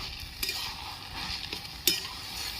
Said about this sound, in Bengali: ঢাকাটা খুলে আমি একটু নেড়ে নিচ্ছি